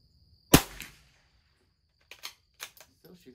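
.22 LR Christensen Arms rifle firing a single sharp, close crack at tournament targets, then a brief decay, with faint clicks and handling sounds afterward.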